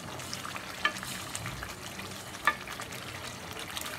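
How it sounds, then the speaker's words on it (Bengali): Chicken pieces go into hot oil cooked down with spices, giving a soft, steady frying sizzle with a couple of sharp clinks as pieces drop in and get stirred. "এখন আমি চিকেন গুলো দিয়ে দিব"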